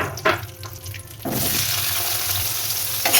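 Bottle gourd dropped into hot oil to sauté, heard as a few scrapes and clatters followed by a sudden, steady loud sizzle that continues to the end, with no talk.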